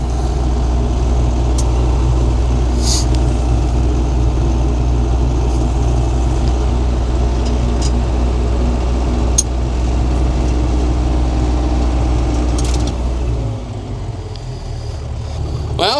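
A combine harvester engine idles beside a corn crib elevator, a loud, steady low rumble throughout with faint clanks on top, dropping slightly in level near the end.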